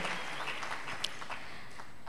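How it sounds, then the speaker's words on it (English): An audience at a university leadership lecture applauds with steady, moderately loud clapping, a dense patter of many hands that continues throughout without talk. "Shall we get the applause louder?"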